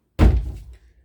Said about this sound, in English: I'm gonna close the door here.